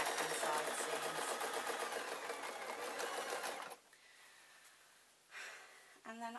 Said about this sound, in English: I'm just about to go over the first of the side seams